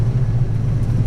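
A Ford Foxbody 5.0 with full aftermarket exhaust cruising in first gear, a steady deep, loud exhaust rumble heard from inside the car, with no talk.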